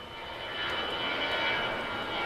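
Military aircraft engines roar steadily at Da Nang air base, a busy US wartime airfield in Vietnam, the broad sustained drone swelling slightly louder partway through with no voices.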